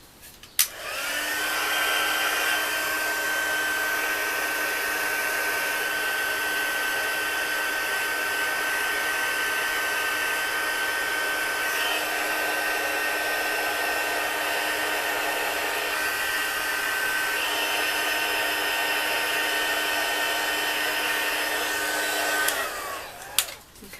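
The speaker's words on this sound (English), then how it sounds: "now I'm going to have to turn my heat tool on" A handheld heat tool blows steadily for over twenty seconds to melt embossing powder on a handmade card, a loud, even whooshing roar with a faint high whine that cuts in and out before the tool switches off.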